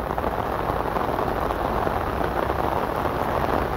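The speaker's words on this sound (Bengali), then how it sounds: "অনেক জোরে জোরে বৃষ্টি হচ্ছে" Heavy rain pours down in a continuous, loud, dense roar of drops hitting surfaces nearby, unbroken throughout.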